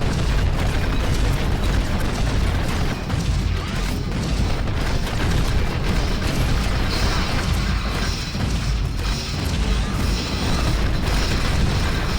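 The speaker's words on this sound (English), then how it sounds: "Kind of shell him down with grenades, keep good cover from the box" Grenade explosions in the video game Shadow Complex Remastered set off a dense, continuous barrage of loud booms and crashing debris. The blasts overlap into a steady rumble for the whole stretch.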